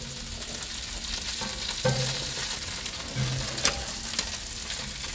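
Bacon crisps on a Blackstone griddle with a constant bright sizzle, broken by a few sharp spatula clinks and scrapes against the flat steel top.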